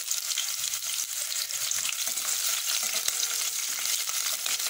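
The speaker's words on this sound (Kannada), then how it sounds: "ಈರುಳ್ಳಿ ಸ್ವಲ್ಪ ಫ್ರೈ ಆದ ತಕ್ಷಣ ಫ್ರೈ ಆಗ್ತಾ ಇದೆ ಇವಾಗ ಒಂದು 3 ಹಸಿಮೆಣಸಿನಕಾಯಿಯನ್ನು ಕಟ್ ಮಾಡಿಕೊಂಡು ಹಾಕ್ತಾ ಇದ್ದೀನಿ" Onions and green chillies fry in a pan for a brinjal gojju, making a dense, even crackling sizzle throughout with occasional soft stirring scrapes.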